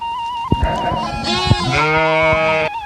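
Several sheep and lambs bleat close by on highland pastures near Ilıca, Darende, Malatya, overlapping wavering calls filling the moment with a few soft thumps.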